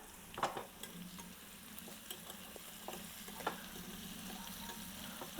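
Fish fries quietly in a pan with a soft, steady sizzle, broken by scattered small pops and a few light clinks, all faint and close with no talking.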